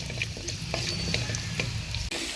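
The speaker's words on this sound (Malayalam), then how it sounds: "എണ്ണ ചൂടായി ഞാൻ എനിക്ക് രണ്ട് ഉള്ളി ഇതൊന്ന് വഴറ്റിയെടുക്കാം" Onions sauté in hot oil with a continuous close sizzle. Soft stirring scrapes and small clicks run through it, and there is a brief dip near the end.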